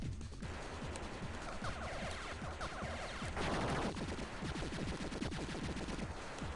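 Dense rapid gunfire and bullet bursts from the Atari Jaguar game Defender 2000, a steady loud stream of overlapping shots with no let-up, heavier crackling mid-way, no voices.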